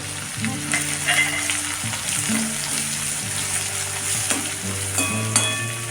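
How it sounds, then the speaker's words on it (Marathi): Chopped onion frying in hot oil with cumin and bay leaf, a close steady sizzle with irregular stirring scrapes and clinks from the pan, no voices. "कांदा हा थोडा लाल होईपर्यंत भाजायचा"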